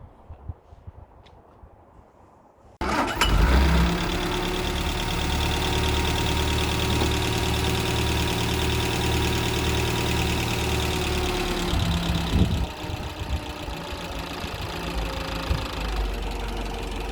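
A 1936 Hillman Minx engine starts with a sudden burst after a few quiet seconds, then settles into a steady, slightly knocking idle that runs on evenly, close by and fairly loud, with no talk.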